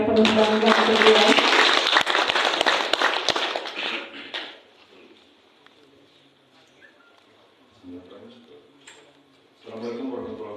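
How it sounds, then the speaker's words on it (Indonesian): Audience applause at a formal morning gathering with a district police chief, a dense burst of clapping that fades out after about four seconds, followed by quiet and then voices. "Boleh sekali bisa minta tepuk tangan yang penuh bangga untuk beliau."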